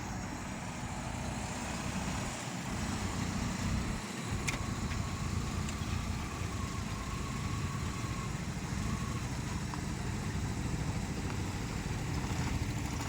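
A manual car's engine runs at a steady low drone throughout, the cabin noise continuous and even during a driving lesson.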